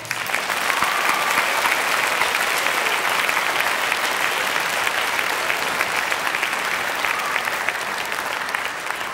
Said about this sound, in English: Let's give the grade 9 band a round of applause.